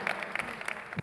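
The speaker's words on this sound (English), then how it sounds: "You don't have to hold your applause." Audience applause at a charity fashion show runway event, a short burst of dense clapping from a crowd, moderately loud and steady before cutting off abruptly.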